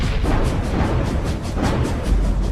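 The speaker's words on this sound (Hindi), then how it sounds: "वो ट्रेन इन सभी बाधाओं को टक्कर मारकर एक झटके में उड़ा देती है" Cartoon train ramming through stones, drums and logs piled on the track, a dense, loud rumbling crash of repeated heavy impacts that continues without pause.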